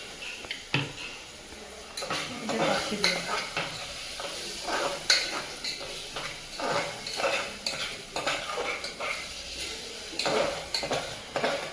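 Soaked chana dal (split chickpeas) frying in hot oil with ginger and garlic, stirred in a pan with repeated scraping and clinking of a spoon against metal under a steady close sizzle.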